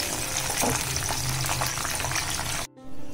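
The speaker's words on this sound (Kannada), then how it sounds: "ಇನ್ನೊಂದ್ಸತಿ ಬಿಡಬೇಕು, 2 ಸತಿ ಕರಿಬೇಕು ಇದನ್ನ." Chicken kabab pieces deep-frying a second time in hot oil, a steady dense sizzle and bubbling that cuts off abruptly near the end, leaving a quieter hum.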